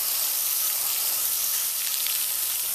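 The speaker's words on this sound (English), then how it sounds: "Rinsing from the clean side down to push the dirt out." Soft flow of water rinsing a MAF air filter from the clean side down, a steady, close hiss of spray with no breaks, even and fairly loud throughout.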